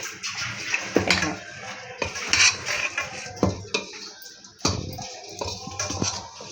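Grated dry coconut and nuts such as almonds, pistachios and makhana are stirred in ghee in a pot. A near, irregular scraping and clinking of a spoon against the metal vessel repeats in uneven strokes, with no talking.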